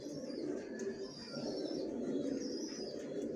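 Racing pigeons coo softly in a loft, a low steady murmur of overlapping calls with occasional wing flutters, moderately near and continuous without speech.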